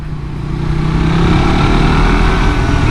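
A 2017 Suzuki GSX-R150 engine runs steadily close up while riding, a continuous mid-pitched drone that swells slightly in loudness, with no voices over it.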